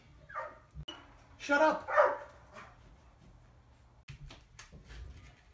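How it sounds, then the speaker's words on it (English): Dogs barking indoors in several loud bursts, with people talking and one shouting over them. "my dogs are barking"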